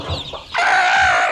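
Village chicks, fifteen to eighteen days old, let out a few soft peeps, then one loud, drawn-out high call, close by and alone, with no voices.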